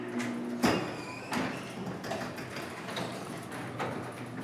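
A LiftMaster 8500 series opener moves a large garage door, giving a steady mechanical hum with a sharp clunk near the start and softer knocks as it runs.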